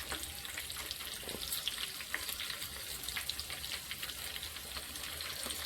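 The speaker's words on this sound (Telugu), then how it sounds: "వెల్లుల్లి రెబ్బలు మంచిగా ఎర్రగా అవ్వాలి" Garlic cloves frying in oil with a pinch of turmeric, a close, steady crackling sizzle with small popping spatters throughout.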